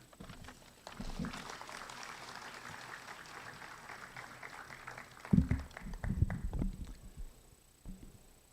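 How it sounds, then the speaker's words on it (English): Faint, distant applause from a crowd at a 12th Constitution inaugural ball in the PNOC gym, a steady wash of clapping that swells midway, with a few heavier thumps and some stray clapping trailing off near the end. "Once again, let's all give a round of applause to the Speaker and all members of the House of Delegates"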